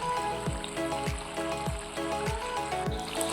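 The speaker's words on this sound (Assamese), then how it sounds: "এয়া সৰিয়হৰ পেষ্টখিনি ইতিমধ্যে উতলিছে।" Thick mustard paste bubbles in a pan while rohu fish curry cooks, giving a steady wet burble with regular soft low plops roughly every half second and a faint background hum.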